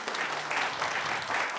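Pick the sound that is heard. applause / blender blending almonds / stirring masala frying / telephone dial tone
applause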